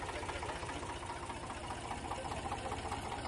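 Steady tractor engine chugging near and loud, carrying villagers through flood-hit Rajasthan during heavy July rain, a continuous knocking diesel rumble with no breaks.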